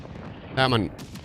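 A grenade blast in the video game Warzone, a single loud burst lasting about a third of a second amid faint background gunfire and game ambience.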